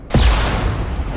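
A single loud shotgun blast from an enemy in a video game, sharp and close, followed by a booming, reverberant decay that lingers for about a second.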